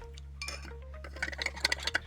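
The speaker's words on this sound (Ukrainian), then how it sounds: "три ложки солі чайних і помішуємо" A spoon clinks lightly against the inside of a glass of salt water in a run of quick taps while stirring, close by, over a steady low hum.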